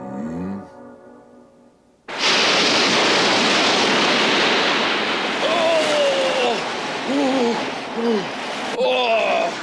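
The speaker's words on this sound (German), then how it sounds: "Die Wellen werden immer höher." Ocean waves roar and surge loudly and continuously from close by, a heavy wash of surf that swells and builds, with faint tonal cries sliding over the top.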